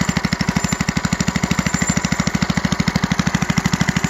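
An old L-head engine of about 6.5 to 8 horsepower runs on a wooden RC car. It chugs at a steady, fast putter with evenly spaced firing pulses, close and loud throughout, with no talking.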